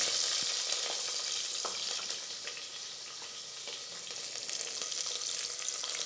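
Onions fry in hot oil for a little millet sambar, a steady close sizzle with soft crackles and occasional stirring scrapes, no voices.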